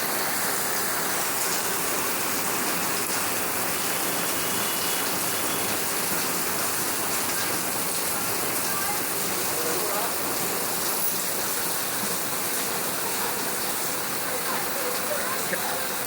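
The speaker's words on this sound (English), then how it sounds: "it's absolutely bucketing it down here" Heavy rain pours down in Hanoi: a dense, steady, loud hiss of downpour that never lets up.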